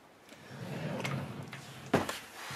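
A drawer in a game room storage unit slides with a soft rumbling scrape, then shuts with a sharp knock near the end, close and fairly quiet with no talking.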